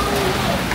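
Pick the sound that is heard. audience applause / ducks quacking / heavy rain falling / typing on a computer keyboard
heavy rain falling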